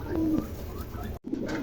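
A pair of American Lakha pigeons coo close by, giving soft, rolling throaty calls that break off briefly and then resume.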